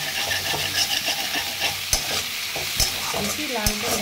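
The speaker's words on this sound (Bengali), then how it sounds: "জাস্ট একটু নেড়ে চলে নিচ্ছি যাতে কাঁচা গন্ধটা চলে যায়" Onions and vegetables fry in a pan, a constant sizzle under close spatula scraping and stirring, with a few sharp knocks against the pan, and no voices.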